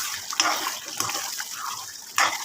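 Gongura chicken curry bubbles in a covered pot over a medium flame, a soft watery burbling with a few louder pops and gurgles.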